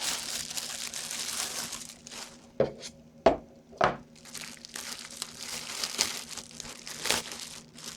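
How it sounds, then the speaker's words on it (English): Plastic bags crinkle and rustle as humidity pump parts for a Brinsea Octagon incubator are unwrapped, with soft continuous crackling punctuated by a few sharper crunches, close up and without speech. "let's take these out of their plastic bags."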